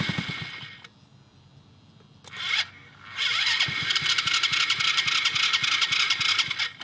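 An off-road go-kart engine cranks with a brief burst, pauses, then catches and settles into a loud, steady buzzing idle close by.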